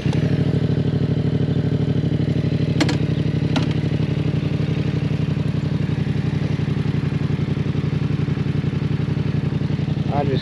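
A Yamaha XSR700 motorcycle runs with a steady, loud engine drone as it rides off. The sound stays close and constant, with a couple of brief clicks and little change in pitch.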